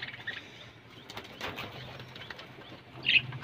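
A brief burst of wing flapping from Teddy pigeons, fairly close, over a steady low hum and soft background noise.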